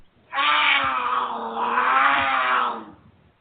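A cougar sound effect in a poetry book advertisement: a single drawn-out feline snarl-roar lasting a couple of seconds, loud and close, with no talk over it.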